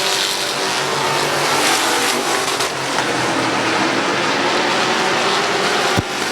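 Race cars roar around the oval at Midvale Speedway in a steady, loud engine drone with a crowd-like wash and a brief sharp knock near the end.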